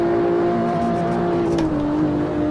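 A turbocharged race car engine in Assetto Corsa on PS4 holds a steady, loud drone with a sustained tonal whine that dips slightly near the end, continuous throughout with no talking.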